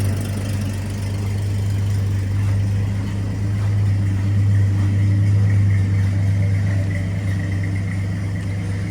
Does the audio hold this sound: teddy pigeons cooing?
no